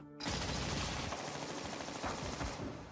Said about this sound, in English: boats came in closer and began to machine gun the ship using armor-piercing projectiles